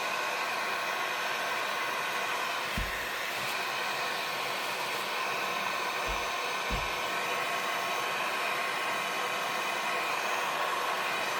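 A hand-held hair dryer blows continuously and close by while drying a craft project of realistic-looking boots, a steady loud rushing whoosh with a few faint low bumps and no speech.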